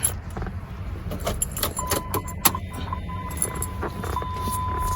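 Car keys jangle in several short bursts over a steady low engine-like rumble, with a faint tone sounding through the middle, beside a Dodge Ram Hemi.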